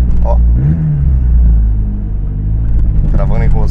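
A VW Parati 1.8 turbo engine revs and rumbles as the car accelerates, a loud, continuous low drone with someone talking over it.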